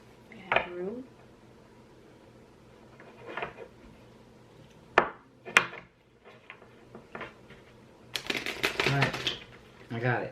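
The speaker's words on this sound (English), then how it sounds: "Then I'm gonna shuffle them and put them." Tarot cards are shuffled by hand, giving several sharp flicks and taps and then a dense riffling burst near the end, while a person talks quietly in between.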